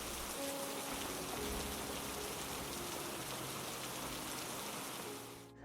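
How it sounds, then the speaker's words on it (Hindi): Heavy nonstop rain pours down in a dense, loud, steady hiss of drops on surfaces, unbroken until it cuts off abruptly at the end. "नॉन स्टॉप बारिश हुई, कड़ाके की बारिश हुई"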